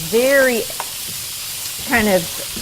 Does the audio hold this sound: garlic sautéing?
yes